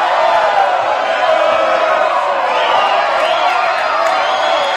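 Loud, steady roar of a packed crowd at a men's college volleyball match against Pepperdine, with cheering and whoops swelling over a constant wall of noise throughout.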